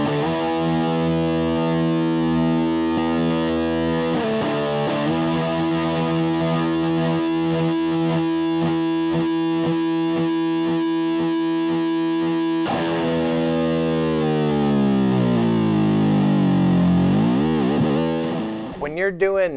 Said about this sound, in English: Now we're into distortion on distortion.